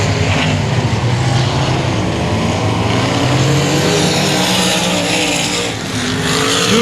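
Race cars circling Cotton Bowl Speedway, a loud continuous roar of multiple engines revving and passing, dense and close throughout with a brief dip near the end.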